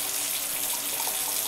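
A faucet runs into a stainless steel kitchen sink in an apartment, giving a steady, close, hissing rush of water at good pressure with no break and no talking over it.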